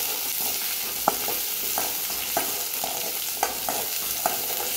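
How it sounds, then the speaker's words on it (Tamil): Curry leaves, shallots and garlic sauté in sesame oil for a herbal curry, a constant close sizzle broken by regular scraping stirs of a spatula against the pan, with no talking. "கருவேப்பிலை, சின்ன வெங்காயம், பூண்டு நல்லா எண்ணெயிலே வதக்கிங்க"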